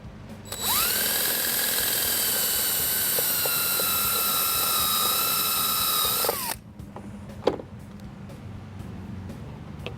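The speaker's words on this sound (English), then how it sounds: "so you can drill this hole after you've marked it" A power drill with a step bit whines at a steady high pitch for several seconds while drilling a hole for a hood strut kit on a 2015 Ford Mustang, then stops, followed by light clicks and handling noises.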